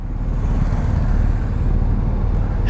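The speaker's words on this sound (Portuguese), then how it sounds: "Cheio das motos aí, ó." Motorcycles on a group ride of nearly 200 bikes heading to Itapoá, heard as a continuous loud, low engine rumble with road noise and no single bike standing out.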